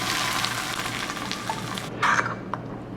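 Hot tempering oil with curry leaves is poured into garlic chutney, setting off a loud, crackling sizzle that swells briefly and then fades toward quiet.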